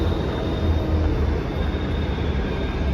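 Metro train at Sindhi Camp metro station, rumbling loudly and steadily through the station, with a constant rolling hum and a faint high whine over it and no voices.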